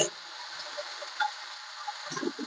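Okra sizzling in a hot pan, a steady faint frying hiss with a few light ticks and stirring clatters near the end.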